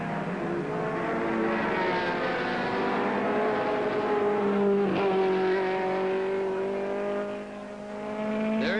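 A 1968 racing car at the Warwick Farm International 100 drones loudly and steadily past, its engine note shifting in pitch as it goes by, with no talking over it.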